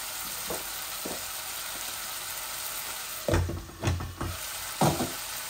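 Rohu fish sizzles steadily in a hot pan after being flipped, a constant frying hiss broken by several louder spatters and clatters from stirring or handling in the pan.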